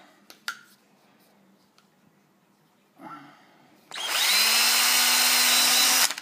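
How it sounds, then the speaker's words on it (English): Power drill boring a hole in a plastic water bottle: after a few light knocks and a brief whir, the motor spins up into a loud, steady high whine lasting about two seconds. "Then get your drill. You want to be drilling an hole at the back of it"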